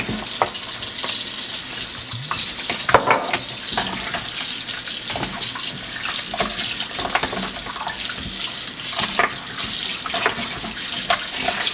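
Kitchen tap water runs steadily into a sink while oxtail is washed, a constant close hiss and splash with occasional clunks of handling.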